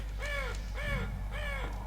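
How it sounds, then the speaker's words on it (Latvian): A crow in Half-Life 2 caws three times in a steady rhythm, each call harsh and clear, over a low constant rumble of game ambience. "Vārna."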